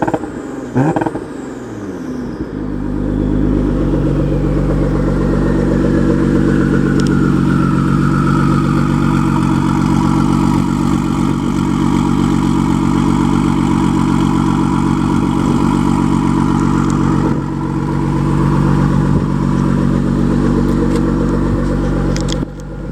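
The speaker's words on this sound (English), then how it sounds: "Exhaust valves open." A Porsche Boxster Turbo, modified with water-methanol injection, idles with its exhaust valves open: after a short rev at the start it settles into a loud, deep, steady burble that holds for about twenty seconds with small fluctuations.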